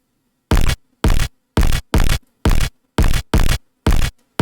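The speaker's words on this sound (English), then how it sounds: "on this drum rack, I'm using the squelch kick" A squelch kick drum sample with heavy clipping hits eight times in a loose, slightly uneven pattern, each burst loud, harsh and noisy with near silence between hits.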